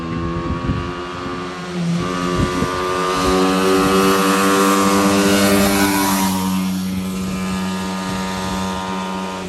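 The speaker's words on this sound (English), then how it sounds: "It sound like a bike coming down the block." A motorbike engine comes down the street, a loud, steady droning whine with a rising and falling pitch, heard close as it revs past for several seconds with some rattling clatter early on.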